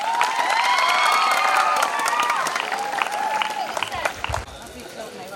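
Audience at a junior college farewell function clapping to welcome the principal, a dense burst of applause with cheers and whistles that thins out and fades near the end.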